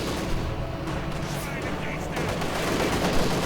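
Gunfire and a Panzerfaust strike on a vehicle's rear armour in a Company of Heroes 2 1v1 battle, a dense, steady rattle of shots and bursts layered under continuous game noise.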